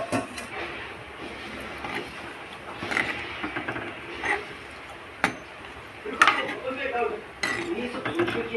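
Metal utensils clink and scrape against a pan as chicken stock, soup and chicken pieces go into a masala, with scattered sharp knocks and a steady kitchen background, no talking.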